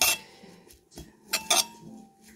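A utensil stirs gremolata condiment in a dish beside a beef ragout, giving a few faint, sparse metallic clinks and scrapes separated by quiet gaps.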